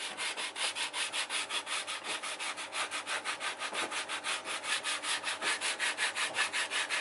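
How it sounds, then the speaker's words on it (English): Steady back-and-forth sanding along the vinyl-covered edge of a wooden deck, a rhythmic rubbing scrape repeating about three times per second, close and even throughout with no talking. "I'm going to start sanding it down."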